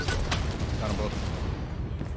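Booming airstrike explosions in the shooter game Contractors Showdown, a dense, continuous rumble of blasts with sharp cracks near the start, under a player's excited voice.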